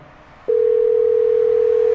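A phone's steady, loud electronic call tone starts after a brief quiet and holds as one unbroken pitch for about a second and a half, with faint room noise underneath.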